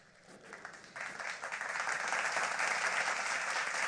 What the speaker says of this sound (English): Please, let's offer them a round of applause.